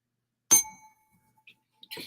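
A bright notification bell dings once with a sharp metallic strike and a ringing decay, followed by a few faint clinks and a second shorter chime at the end.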